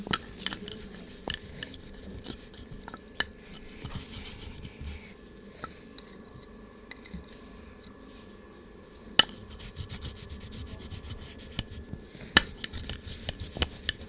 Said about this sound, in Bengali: ও কপির পাতা যা সুন্দর বাটা হচ্ছে